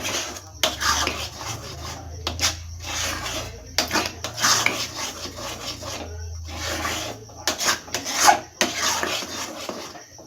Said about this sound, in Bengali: এবার আমাকে এটা আবার নেড়ে দিতে হবে। এইভাবে আস্তে আস্তে আস্তে আস্তে মিশিয়ে নিতে হবে।